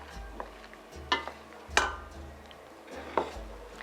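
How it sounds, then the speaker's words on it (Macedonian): Utensils clinking and scraping against a bowl while a traditional Slavic salad is stirred with olive oil, a few distinct metallic taps over soft mixing sounds, close and fairly quiet, with no talk. "Прво ќе ставам половина, ќе видам дали треба уште. И почнувам да мешам."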